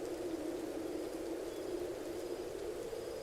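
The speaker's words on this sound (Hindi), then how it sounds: "तूफान धीमा हो गया है, लेकिन बारिश पूरे जोरों पर जारी है।" Heavy storm rain falls through the night in a steady, dense roar that holds at a constant loud level from start to finish, with no voices.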